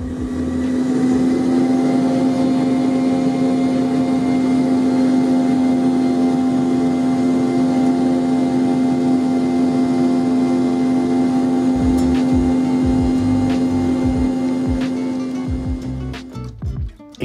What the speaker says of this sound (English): I have the privilege of riding Hawaiian's lovely 717 over to the island of Maui